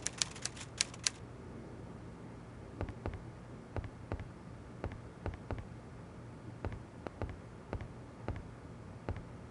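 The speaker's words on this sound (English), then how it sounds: "I say, Poirot, he seems to be typing up quite a storm" A typewriter clacking away in quick irregular bursts of keystrokes, faint and close, with a carriage return bell or ding early on and no other sounds.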